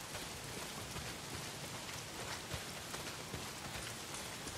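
Steady heavy rain pouring down in the Days Gone video game, a dense, even hiss of drops on surfaces with occasional louder spatters, continuous and close, with no voices.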